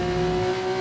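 A Formula 1 car engine in the racing video game F1 24 screams at a high, steady rev during a rain-affected race, loud and continuous through the whole brief moment.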